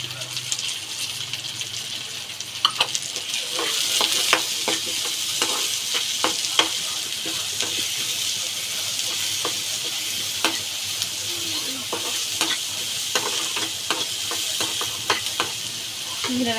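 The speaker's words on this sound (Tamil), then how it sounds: "இந்த மாதிரி வந்த பிறகு நம்ம பொடியாக கட் பண்ணி வச்சுருக்க 2 வெங்காயத்தை போட்டுக்கணும்" Two finely chopped onions sauté in a hot pan, a steady broadband sizzle running throughout with frequent sharp scrape-and-clatter clicks from stirring, close and fairly loud with no talking.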